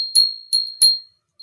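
Small hand bell at a healing altar rung three times in a steady rhythm, each bright ringing strike decaying before the next, then a faint fourth touch at the end.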